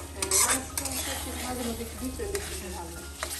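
Kofta fries in a pan as a utensil stirs it. Scraping and clinking sound over a low sizzle, with a faint voice in the background.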